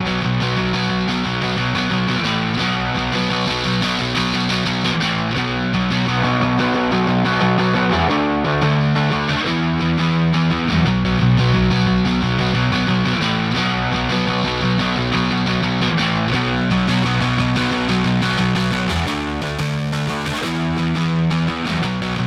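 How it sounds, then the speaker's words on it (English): Heavily distorted electric guitars play a chugging riff with steady chord changes, thick and saturated, processed through the Kiive Audio Distinct Pro distortion plugin on its odd setting, alone with no voices. "just a bunch of saturation with a little bit of distortion using our odd setting"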